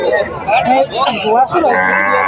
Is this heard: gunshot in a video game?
no